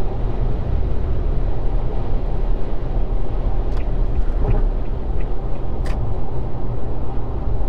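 A Suzuki Wagon R FZ, the fifth-generation MH44S late model with a naturally aspirated engine, cruising on a highway at 100 km/h. A steady, loud drone of road and engine noise runs without break, with no voices.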